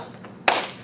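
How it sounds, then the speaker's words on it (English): A single sharp hand clap, a jiu-jitsu style clap made on a count, rings out loud and close at mid-clip, with a second clap starting just as it ends. "That was a realistic jiu-jitsu clap"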